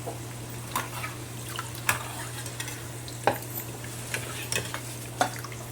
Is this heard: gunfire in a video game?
no